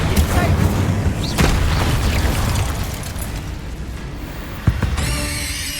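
A Confringo blasting spell explodes in the Hogwarts Legacy video game, landing as a loud booming burst early on. Dense rumbling and crackling hang behind it, with a sharp pop near the end and shimmering magical tones at the close.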